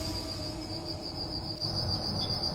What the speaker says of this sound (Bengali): শুধু ঝিঁঝি পোকার একটানা ডাক